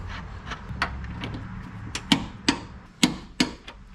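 Front suspension bolts on a Nissan 350Z being tightened with a torque wrench: a series of sharp, close metallic clicks and ratchet snaps, irregularly spaced and growing louder toward the end, over a low background hum with no talking.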